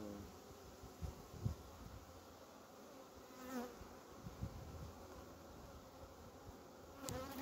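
Honeybees hum steadily around a hive, a continuous soft buzz with occasional louder passes as individual bees fly close by, and no voices.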